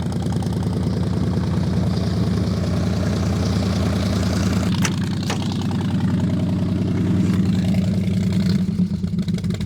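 An old car with Flowmaster mufflers idles after a cold start in sub-zero temperatures, a steady deep rumbling exhaust burble running unbroken, close and loud, with no talk.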